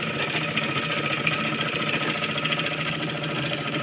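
Sewing machine double-stitching the hem of a six-panel petticoat, a steady close mechanical whirr running continuously without pause.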